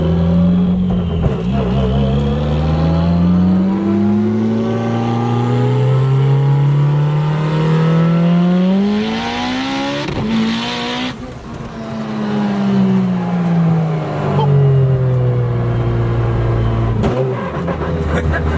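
An 898 whp Mitsubishi Evo 8 accelerates hard, heard from inside the car: loud engine rising in pitch through several gears with brief dips at shifts, sustained and dominant, with faint voices underneath.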